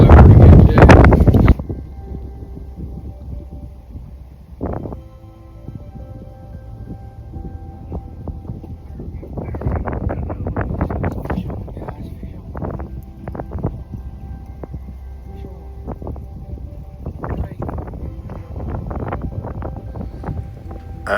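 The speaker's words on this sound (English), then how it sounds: "The wind's starting to blow pretty good too." Wind blows across foggy Lake Okeechobee, buffeting the microphone in a loud opening gust, then rustling and gusting in uneven surges with occasional knocks, no voices.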